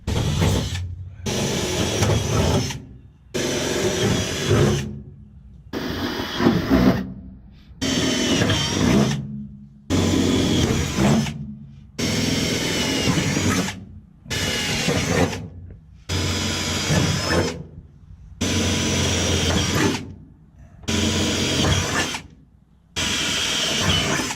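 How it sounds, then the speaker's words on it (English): Repeated bursts of a power drill on a 1970 Plymouth 'Cuda rebuild, each a couple of seconds long, whirring loudly up close and separated by short silences in an uneven rhythm. "But let's start drilling."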